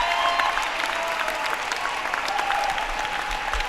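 A home crowd at a varsity boys basketball playoff game against Gretna gives a standing ovation after the final buzzer. Sustained, dense clapping with faint crowd noise underneath holds steady throughout.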